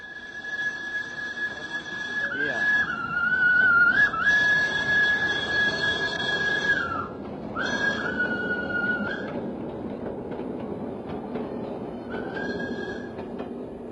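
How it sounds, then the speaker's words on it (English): A steam tram runs through the streets of colonial-era Surabaya, giving long shrill whistle blasts over a low rolling rumble, with a shorter whistle near the end as the sound fades. "the steam tram bustled through this little Holland in the tropics"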